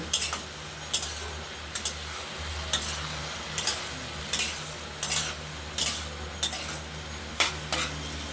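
Boiled rice being stir-fried in a wok, a spatula scraping and knocking against the pan in a regular rhythm roughly once a second over a low, steady sizzle.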